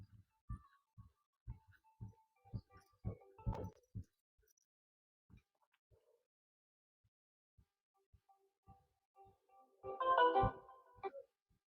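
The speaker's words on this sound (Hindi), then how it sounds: "पता नहीं के फोन इतना आवता है" A phone ringtone plays softly as a string of rhythmic electronic beeps and tones, swelling into a brief louder burst near the end.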